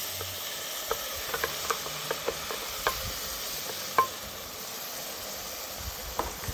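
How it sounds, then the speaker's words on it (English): An onion mixture sizzles softly in a pan of hot whole spices, a faint steady fry broken by scattered light clicks and stirring taps. "And now we add our onion mixture to that."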